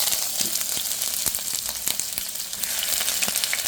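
Ginger and garlic hit a hot pan and sizzle steadily, a dense close frying hiss with small crackles and stirring clicks throughout, no voices.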